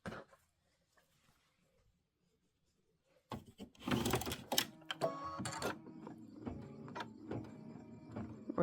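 A sewing machine stitching down black fabric pieces for a traditional pieced quilt block, starting after a near-silent pause with a close, uneven burst of clattering needle strokes and mechanical rattles.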